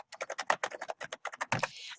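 Rapid typing on a computer keyboard, a dense run of close, crisp keystrokes in quick succession ending with a heavier thump, with no talk over it.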